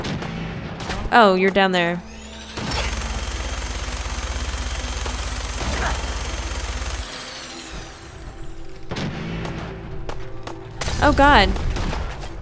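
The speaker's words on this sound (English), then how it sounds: "I'm shooting everywhere, guys." Gunfire in Fallout 4, a sustained burst of rapid shots lasting several seconds, then scattered loud reports, with a man exclaiming at the start and end.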